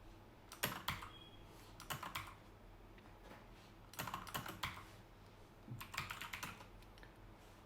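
Bursts of typing on a computer keyboard, entering a command, with quick clusters of clicky keystrokes separated by short pauses, close and distinct in a quiet room, no voices.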